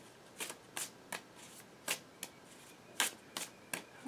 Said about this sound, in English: We're going to go with another shuffle here.